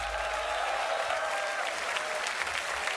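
Crowd applause and cheering from a beatbox battle audience, steady and dense throughout with scattered shouts and whistles, fairly distant and filling the room.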